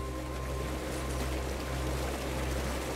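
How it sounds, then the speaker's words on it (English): Small waterfall in the RPG Tower of Time, a steady rushing, splashing water flow with a low rumble, continuous and fairly close, with no talking. "Nice, a little waterfall."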